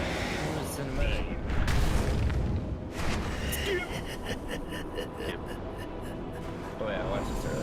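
Deep booms and rumbling blasts from a World of Warcraft raid cutscene come loud and dense, with a heavier surge early on and continuous cinematic sound throughout.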